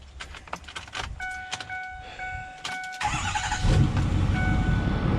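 Someone climbs into a pickup truck: door thuds and key jingles, a repeating chime sounding, then the engine cranks and starts into a steady idle rumble close by.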